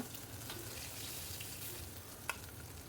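Eggplant frying in oil in a home kitchen, a faint even crackle and hiss of sizzling with one sharp tap near the end, no talking.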